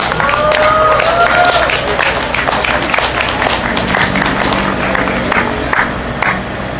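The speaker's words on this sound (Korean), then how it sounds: "안양환경운동연합의 지구인님 큰 박수로 모시겠습니다" Crowd at an evening rally against the US free trade agreement clapping and cheering to welcome a speaker, loud and dense, with voices calling out over the applause, which thins slightly toward the end.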